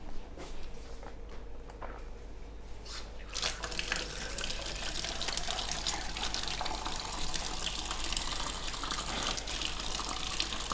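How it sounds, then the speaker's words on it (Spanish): Hands being washed under a running kitchen tap in a home pizza kitchen, a steady close gush of water that grows louder and fuller after a few seconds and keeps flowing, with no talking. "nos vamos a lavar las manos primero"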